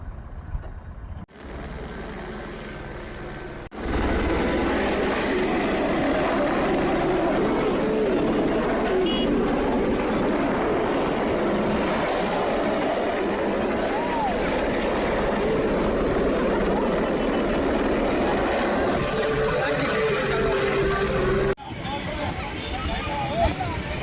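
A helicopter roars loudly and steadily nearby for most of the clip, with voices faintly audible beneath the engine noise.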